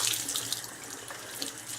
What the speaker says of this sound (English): So I'm just going to turn on the water, and I just sit here and squeeze it, and you can see it expanding.